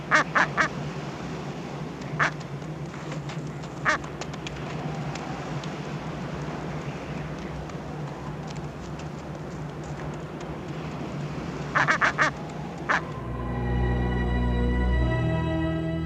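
Penguins call in a noisy chorus on a wind-swept Antarctic shore of rock and ice, sharp squawks rising over steady wind and surf.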